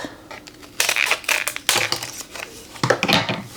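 Scissors cutting open the plastic packaging of a Cricut rotary blade tool, a run of crisp snips, crackles and crinkling bursts up close with short pauses between them.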